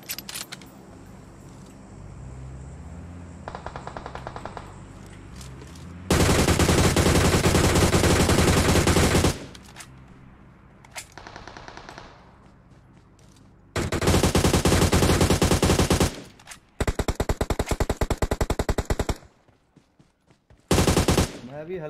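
Bursts of automatic gunfire in PUBG Mobile as a player shoots from inside a car, loud sustained volleys of several seconds each, separated by quieter gaps with game sounds.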